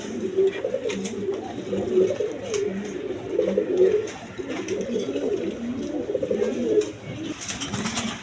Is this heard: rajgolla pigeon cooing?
yes